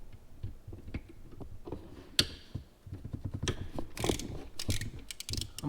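A ratchet driving 10mm valve cover bolts on a 3.4L 5VZFE Toyota 4Runner, giving quick bursts of close, crisp metallic ticking with small taps and pauses between strokes.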